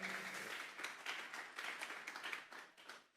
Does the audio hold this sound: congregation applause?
yes